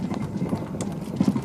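Horse hooves clip-clop in a quick, steady rhythm on the Cycloped, a horse-powered locomotive, close and moderately loud with no talk.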